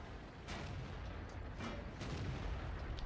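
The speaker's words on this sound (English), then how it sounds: "And just keep putting out those shells" An IS-6 heavy tank's main gun fires shells in World of Tanks: a few heavy booming shots spaced about a second apart, each with a sharp crack over a steady low engine rumble, moderately loud.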